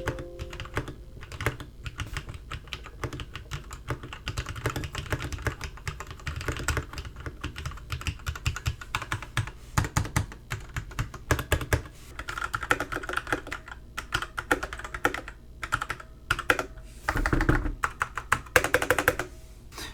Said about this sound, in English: so here's the typing test, leaning in at a reasonable level.